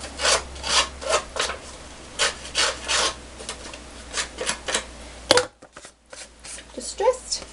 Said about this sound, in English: I'm going to just distress the edges quick.